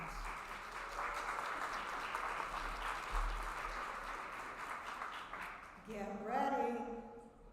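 Sustained audience applause at a Disability Mentoring Day kickoff reception fills the room for several seconds, then gives way to a voice speaking near the end.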